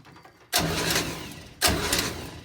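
The engine of a 1965 GMC Handi-bus being restored cranks and catches in two loud bursts, each abrupt onset giving way to a rough running roar that fades somewhat before it stops.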